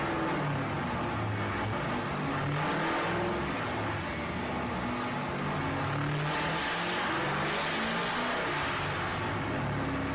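A loud car engine revs repeatedly, rising and falling in pitch with a harsh roar, heard up close without talk.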